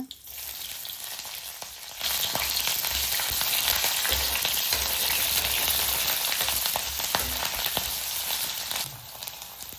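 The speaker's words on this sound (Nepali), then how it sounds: "त्यसैगरी प्याज पनि फुराइदिनु होला।" Onions fry in hot oil with cumin in a pan for momo achar, a dense, loud, steady sizzle that jumps up after a quieter opening and crackles continuously with occasional stirring scrapes.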